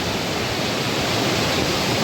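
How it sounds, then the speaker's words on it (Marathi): Fast river water roars nonstop close up, a thick hissing rush with no other sounds. "बघा कसा फेसाळलेला पर्याय किती जोराचं पाणी आहे"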